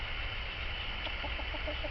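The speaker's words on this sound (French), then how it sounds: "Les poules passent, elles grattent de tout ce que je leur jette ici dans le compost." A few soft clucks from chickens scratching in a compost area, brief and scattered, under a steady background hiss with low rumble.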